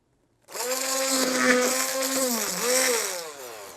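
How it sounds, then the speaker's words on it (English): An immersion blender whirs steadily at high speed through pumpkin, its pitch dipping and rising slightly as it works, loud and close with no talking. "Okay, what if I use an immersion blender?"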